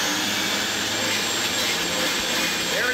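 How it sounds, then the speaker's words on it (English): A powerful cyclone dust extractor roars as it vacuums sawdust off a workshop floor near a lathe, a loud, steady, whooshing drone that holds constant throughout. "I will vacuum up a lot of the sawdust that you see on the floor and on my lathe"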